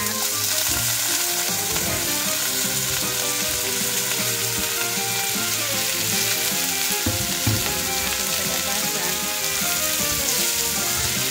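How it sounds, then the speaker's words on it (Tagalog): Squash dropped into a hot pan for ginataang kalabasa with crab sizzles and fries steadily, a dense close crackle that fills the whole stretch with no voice over it. "Ngayon ilagay natin guys yung ating kalabasa."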